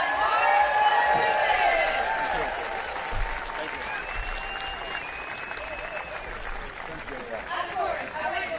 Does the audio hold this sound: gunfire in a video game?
no